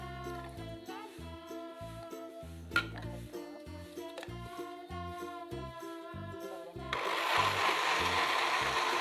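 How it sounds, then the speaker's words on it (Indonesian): Background music with a steady beat plays, then a blender blending corn kicks in near the end with a loud, grinding whir. "Jagungnya ke blender."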